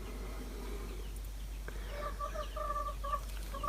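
A red hen clucks in a short run of repeated calls, moderately close over a steady low hum, the clucks growing more frequent toward the end.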